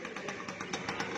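Classic motorcycle engine idling close by, a steady, even putter with rapid regular pulses and no voices over it.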